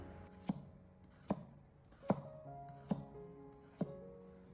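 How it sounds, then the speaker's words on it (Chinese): A knife cuts through potatoes into thick slices on a cutting board, giving five crisp, evenly spaced chops close up in a quiet kitchen. "把它改刀切成稍微厚一点点的薄片"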